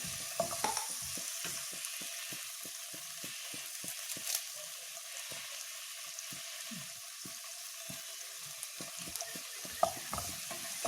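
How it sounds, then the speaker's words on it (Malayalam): Shallots sautéing in a pan with green chilli, ginger and curry leaves: a continuous quiet sizzle with a steady run of light spatula scrapes and taps, close by, no talking. "ചെറിയ ഉള്ളി നന്നായിട്ട് തന്നെ വഴറ്റിയെടുക്കണം"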